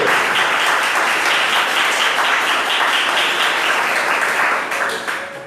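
A church congregation at a family worship service claps vigorously in a full, sustained wash of applause that fades slightly toward the end.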